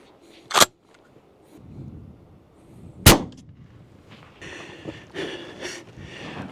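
Two loud, sharp 12 gauge shotgun blasts of a drone-defense round fired outdoors at a 50-yard target, spaced a few seconds apart, with soft rustling and handling noise between and after them.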